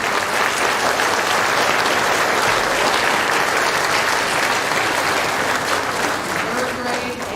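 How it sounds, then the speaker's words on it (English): A crowd at an elementary school awards ceremony claps for second grade students, giving loud, sustained and continuous applause that holds steady throughout, with crowd noise mixed in. "Let's give them a round of applause."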